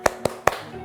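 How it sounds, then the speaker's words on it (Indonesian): Schoolchildren in a sixth-grade elementary class perform a rhythmic spirit clap: three sharp, close hand claps, evenly spaced, with a short ring after each. "kita lakukan dulu tepuk semangat ya, biar semangat"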